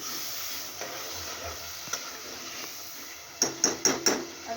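Taro (arbi) sizzling in a pan gives a soft steady fry, with a few light clicks and then four sharp metallic taps of a spoon against the pan near the end; close, no talk.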